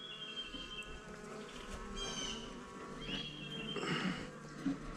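Honeybees buzzing around an open hive during a frame check, a dense, continuous hum close by with fluctuating pitch as individual bees fly past, no talking.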